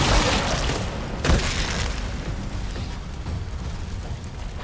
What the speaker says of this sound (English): The anti-fire grenade can do stuff like that.